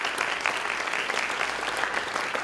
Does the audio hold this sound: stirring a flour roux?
no